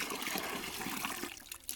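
Water being fetched for washing utensils on a family farm, a continuous rushing, gushing flow close by that eases slightly toward the end.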